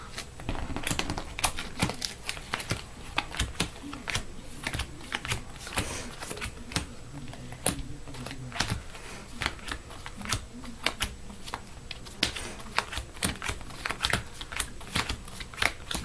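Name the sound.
shuffling sleeved playing cards for a board game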